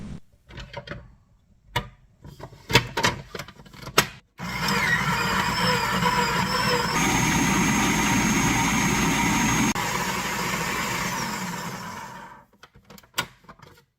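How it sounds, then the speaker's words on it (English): A mixer beats 150 grams of butter until creamy with a loud, steady motor whir that runs for about eight seconds. Clicks and knocks of handling come before and after it. "Beat 150 grams of butter until creamy."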